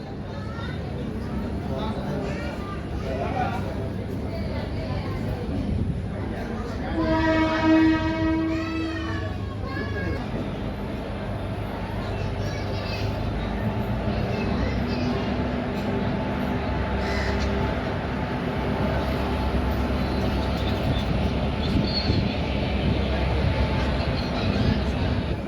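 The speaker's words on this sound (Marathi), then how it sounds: "आपली परळी सांगली डेमो निघालेली आहे परळी वैजनाथ रेल्वे स्टेशनवरून" Parli–Sangli DEMU train pulling out of Parli Vaijnath railway station, a steady rumbling run with a long horn blast partway through and crows cawing nearby, under ongoing talk.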